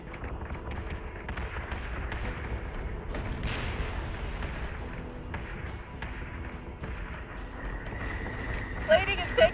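Warship guns firing in a Battlestar Galactica space battle game, a dense, continuous barrage of booming shots and rumbling impacts, with a voice speaking over the gunfire.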